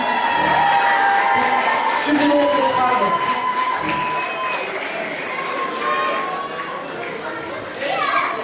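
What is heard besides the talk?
audience applauding loudly for Luc and Lucette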